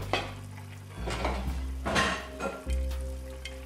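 A lid is set on a frying pan of sizzling pork tenderloin medallions, with clattering metal knocks over steady frying and a deeper hum that shifts as the pan is covered.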